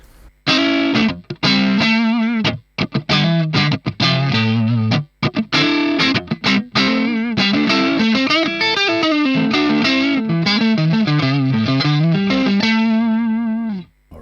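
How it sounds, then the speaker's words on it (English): A Stratocaster electric guitar played through a Hotone Ampero 2 on a bluesy tone, with a continuous run of sustained, lightly overdriven notes and bends. It is loud and close, with no talking. "Let's also check out maybe some tones with a Strat here while I'm holding it in my hand"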